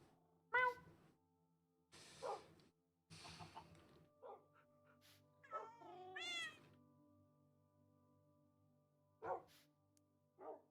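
A cat in the video game Minecraft meows several times in short, separate cries, clear against an otherwise quiet game background with soft clicks.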